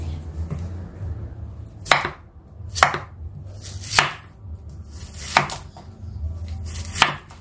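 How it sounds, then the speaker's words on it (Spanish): A knife chopping a carrot on a cutting board, five or six sharp, separate chops spaced about a second apart over a low background hum, close and distinct. "Ahora vamos a cortar nuestra zanahoria."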